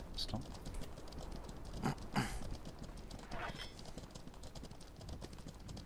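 Pony hooves clip-clop steadily in a video game, a continuous patter of light hoof falls with a few sharper knocks, heard at moderate level with faint background noise.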